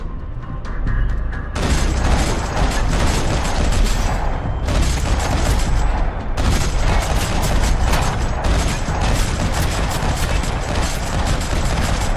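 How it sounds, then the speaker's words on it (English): Gunfire in a parking lot in the game Max Payne 3, loud dense bursts of rapid shots and booms firing almost continuously, with a short lull near the middle before the shooting resumes. "Another parking lot rattling with gunfire."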